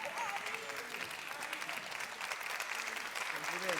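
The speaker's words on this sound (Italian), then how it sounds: "ragazzi, prendetevi anche l'applauso" A crowd applauds performers at a Neapolitan talent show, dense clapping sustained throughout with a faint voice underneath.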